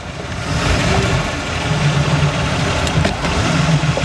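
A boat engine idles steadily on the water, a continuous, fairly loud low rumble with a slight uneven pulse, heard alone without talk.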